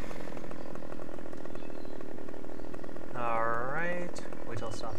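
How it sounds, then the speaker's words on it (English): Chainsaw cutting through a felled tree in the Farming Simulator 15 logging game, a steady loud buzzing engine drone throughout with a brief rising rev near the end, and someone talking over it. "just run across it with your chainsaw on"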